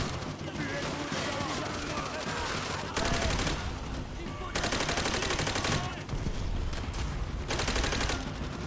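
Rapid bursts of gunfire from the World War II shooter Call of Duty: World at War, with dense overlapping shots and machine-gun volleys in several loud waves.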